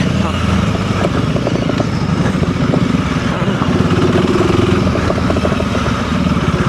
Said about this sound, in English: What's rattling on this bike? Is it that rear rack?